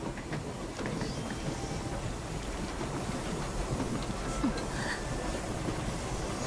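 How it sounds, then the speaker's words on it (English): A train in the video game Infinity Nikki rolls into a station with a steady low rumble and faint clatter, holding at an even level throughout with no talk over it. "Look, the train is here."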